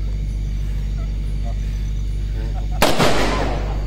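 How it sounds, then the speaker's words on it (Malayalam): A single sharp firecracker burst at a Diwali shoot cracks out near the end of the clip over a constant low background rumble, with a short decaying tail. "നനഞ്ഞ പടക്കം?"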